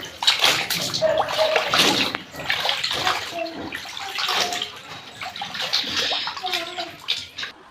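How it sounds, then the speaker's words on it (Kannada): Baby clothes being washed by hand in a tub of water with Dettol, with steady sloshing, splashing and wringing close by and continuous over the whole stretch, some faint voices in the background. "ಡೆಟಾಲ್ ಹಾಕಿ ನಮ್ಮಮ್ಮ ಎಲ್ಲನೂ ಕ್ಲೀನಾಗಿ ವಾಶ್ ಮಾಡ್ತಾ ಇದ್ದಾರೆ."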